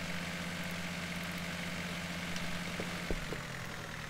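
A tractor engine in Farming Simulator 2013 idles with a steady, low, droning hum at moderate volume, with a few faint clicks and no speech.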